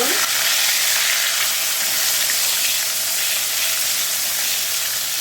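Eggplant fritters fry in a small amount of oil in a pan, giving a loud, steady sizzle with a soft stirring scrape as they are flipped.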